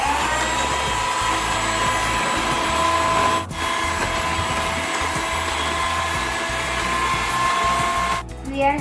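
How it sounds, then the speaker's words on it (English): An electric mixer whirs steadily and loudly while cocoa powder is mixed into chocolate cookie batter, with a brief dip midway and a stop near the end. "Now we add cocoa powder and mix it well."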